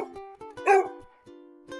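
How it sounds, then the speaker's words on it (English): A black Labrador barks in a short series of sharp, close woofs with brief gaps, one louder bark in the middle and a final pair at the end, with no talking. "we can't forget Olive, the loyal black lab and Nessie's service dog."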